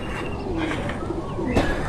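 Pakistani teddy pigeons coo in a few soft, low, rounded calls close by, over a steady background hiss with no talking.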